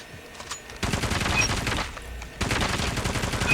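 BK57 gun firing in a ranked mobile shooter match, two sustained bursts of rapid automatic fire separated by a short pause, loud and close.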